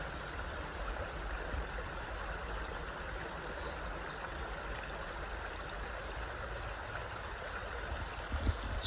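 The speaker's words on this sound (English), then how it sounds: "Happy little creek around happy little trees." Steady broadband rush of a creek flowing beneath a footbridge on the Appalachian Trail, continuous and even throughout with no voices, a faint bump near the end.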